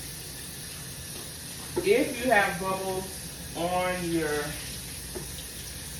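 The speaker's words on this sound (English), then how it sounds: "So I'm just over here washing my griddle off, making sure that I have no more bubbles on there." Tap water runs steadily into a sink while a griddle is rinsed of soap bubbles, a constant close hiss under a voice speaking in the middle.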